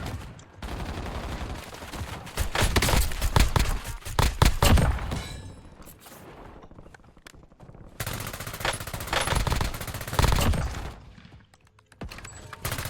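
An ASVAL assault rifle in Black Ops 6 Zombies fires several long, rapid full-auto bursts separated by brief pauses, loud and close, with no talk.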